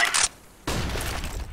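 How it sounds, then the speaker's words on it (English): A flashbang grenade goes off in a video game. A brief hiss comes first, then a sudden loud burst that settles into a sustained, noisy rushing ring until the end. "Deploying flashbang."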